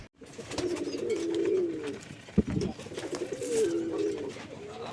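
Pigeons in a loft give close, drawn-out coos, while being caught by hand. A sharp thump and a scuffle come in the middle, and a second long coo follows.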